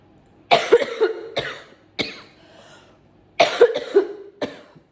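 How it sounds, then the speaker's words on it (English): Two clusters of harsh, phlegmy coughs, several sharp bursts each, close and fairly loud, with quiet pauses between the fits. "you recognize that cough? It's come back in the last 2 days."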